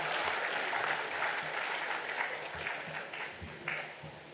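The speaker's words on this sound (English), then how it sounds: "Can we have a huge round of applause for the last speaker" Convention audience applauds, a dense steady patter of many hands clapping that stays fairly even and slowly tapers, with no talking over it.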